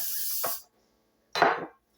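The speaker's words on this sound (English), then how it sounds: "Now we need to spray our hands again." Pam cooking spray is sprayed onto hands in two short, close hissing bursts, the first longer, separated by a brief pause.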